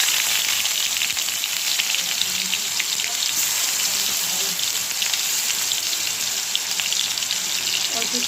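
Onion paste frying in hot oil in a wok while making a pabda fish curry, a steady bright sizzle and crackle that continues evenly throughout with no talking.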